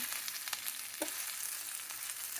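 Dry masala powders fry in a pan for masala vermicelli, a soft, even sizzle with faint stirring scrapes, steady throughout and with no voices.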